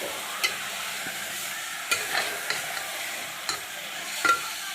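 Mutton gravy curry being stirred in a pan, a spoon scraping and knocking against the metal at irregular intervals over a soft continuous sizzle, close and alone without talk.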